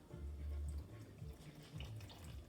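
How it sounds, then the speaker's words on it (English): Water pours steadily into a bowl of cauliflower wing batter made from pancake mix, a continuous splashing trickle heard close up with no talking. "And then I'm going to add a little water"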